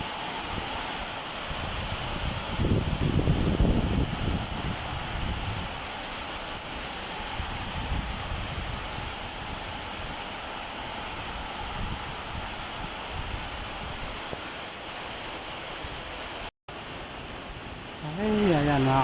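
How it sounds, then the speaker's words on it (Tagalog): A sudden heavy downpour of rain during grass cutting outdoors, a dense, steady roar of falling water that continues throughout, with a brief dropout near the end. "at biglang buhos ng ulan."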